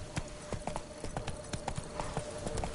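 Hooves of Roach, the horse in The Witcher 3, clip-clop in a quick, steady trotting rhythm, close and fairly soft, with no talk over them.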